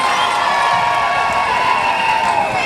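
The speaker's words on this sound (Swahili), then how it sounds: "Tuwapigie makofi county governors wetu jameni" Crowd at an outdoor Kenyan public health launch event cheering and applauding county governors, a dense, steady wash of clapping and shouting that holds loud and close throughout.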